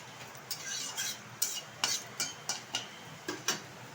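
Four dried red chillies and a torn bay leaf being stirred in a wok, with a string of sharp, evenly spaced scrapes and clicks of the spatula over a soft, low sizzle.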